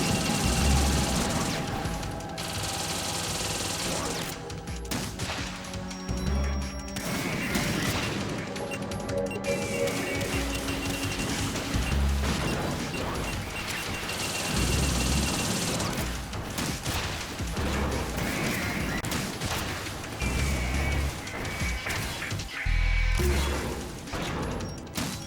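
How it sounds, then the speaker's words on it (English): Metal Gear Solid 2 enemies launching a barrage of missiles, heard as dense, loud, continuous game combat noise with repeated low booms, mechanical clatter and bursts of fire throughout, no talking. "Ah, they're all firing missiles."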